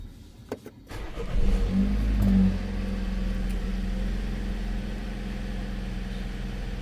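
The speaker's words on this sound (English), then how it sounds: "let's get the car going." A 2016 BMW X1 with throttle body fault codes cranks briefly and fires, rising to a loud rev before dropping to a steady idle, heard close with no talking.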